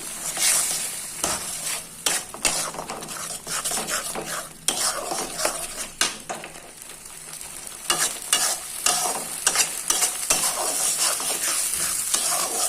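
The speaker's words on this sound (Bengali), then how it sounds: "দিয়ে দিচ্ছি 3টা কাঁচামরিচ, আমি এভাবে একটু ফাটিয়ে দিচ্ছি।" Three split green chillies fry in a pan on medium heat with a crackling sizzle. Frequent metal spatula scrapes and clinks against the pan break into it at an irregular rhythm, and no one talks.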